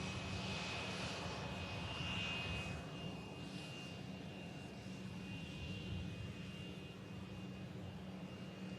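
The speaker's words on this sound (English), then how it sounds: "Logan Air with a tiny little ERJ 145 on the route, flying up from Newquay." A Logan Air Embraer ERJ 145 jet at Manchester Airport, its engine roar steady and fairly distant, a broad hiss with a thin high whine holding throughout.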